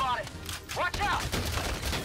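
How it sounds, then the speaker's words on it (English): Rapid machine gun fire bursts from the video game Valkyria Chronicles 4 crackle in quick succession at a moderate level, with in-game voices and effects layered over the shooting. "Oh crap, we're getting shot at with a machine gun"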